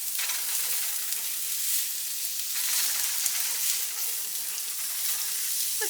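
Food, onions among it, frying in bacon grease in a pan and being stirred: a loud, continuous bright sizzle that stays close and steady from start to finish, with the scrape of stirring just under it.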